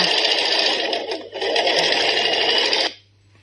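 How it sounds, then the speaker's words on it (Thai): Sewing machine running steadily while stay-stitching a skirt hem, a loud, even mechanical whir with one brief dip, then stopping abruptly and leaving near silence. "ต่อไปก็เย็บที่ชายนะคะเป็นสเตย์สติชชิ่งค่ะ"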